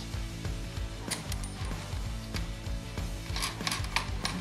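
Small metal nuts and washers clink and ratchet as they are threaded back onto Polaris RMK SKS snowmobile parts, close up, in quick irregular taps and clicks with no talking.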